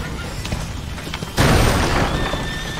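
A horse whinnies amid a tense escape scene in the video game A Plague Tale: Innocence, a loud burst of neighing over rumbling booms and game noise, with a high trailing tone afterward.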